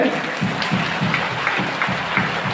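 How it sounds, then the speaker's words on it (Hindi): Loud congregational clapping at a Catholic charismatic worship service, with a steady, slightly rhythmic patter of many hands close by and a faint voice beneath. "जोर से ताली बजाइए"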